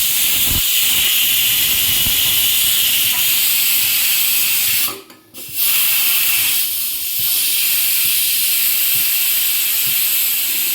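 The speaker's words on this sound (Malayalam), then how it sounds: "ഒരു വിസിൽ വന്നപ്പോൾ തന്നെ ഇതിൻ്റെ പ്രഷർ കുറേ പോക്കുന്നതാണ്" A pressure cooker cooking vegetable pulao vents steam in a loud, continuous hiss that drops out briefly midway, then surges back and keeps going.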